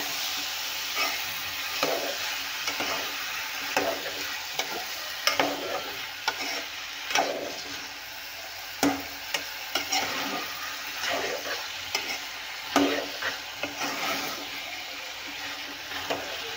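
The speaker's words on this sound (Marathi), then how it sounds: "हे पूर्ण व्हेजिटेबल्स घातल्यावर याला परतून घ्यायचं आहे" Mixed vegetables of eggplant, peas and potato sautéed in a pan, a soft sizzle with repeated scraping stirs of a spoon at a steady rhythm, close and alone.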